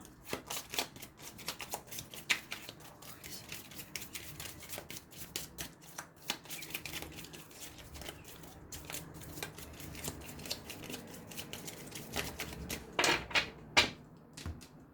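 Witches' tarot cards are shuffled and drawn in a quiet room, giving a soft run of papery flicks and riffles with a few sharper snaps near the end, with no talking.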